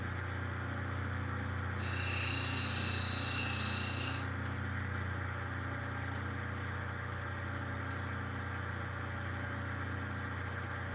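Grinding the sandy matrix off an Ethiopian opal, a steady close rasping drone with a brighter, harsher grinding burst in the first few seconds.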